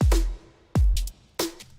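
Drum hits from a neuro bass music track: three loud electronic kick-and-snare hits with heavy reverb tails, each followed by short bright percussive bursts, playing alone with no voice.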